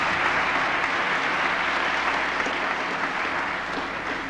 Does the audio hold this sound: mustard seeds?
no